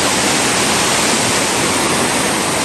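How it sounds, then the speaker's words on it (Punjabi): A river flowing through a village in Livigno, Italy, makes a steady, loud broadband rush of water that stays constant throughout, with no voices. "ਨਦੀ ਲੰਘਦੀ ਪਈ ਹੈ ਪਿੰਡ ਦੇ ਵਿੱਚੋਂ ਵਿੱਚੋਂ"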